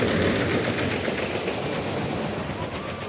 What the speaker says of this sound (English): She built it herself, A wooden ramp making a homemade roller coaster.